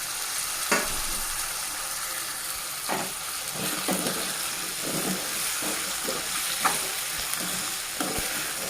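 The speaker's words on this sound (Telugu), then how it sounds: "ఇవి ఇలాగే ఒక 5 మినిట్స్ వరకు బాగా ఫ్రై చేసుకోవాలండి. కలుపుతూ ఉండాలండి" Peeled taro roots fry in a pan for Andhra-style pulusu, a continuous close sizzle broken by several distinct scraping stir strokes at irregular intervals; no voices.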